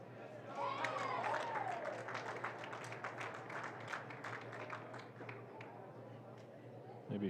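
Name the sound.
applause at a track meet for a pole vault clearance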